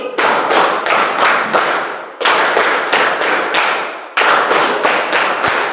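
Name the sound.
classroom hand clapping pattern, clap five three times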